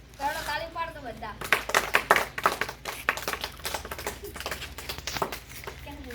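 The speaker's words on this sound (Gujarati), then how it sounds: "ચાલો તાળી પાડતો બધા" A group clapping hands at a small magic show, a burst of brisk irregular claps following a voice, continuing in scattered rhythmic claps with speech over them.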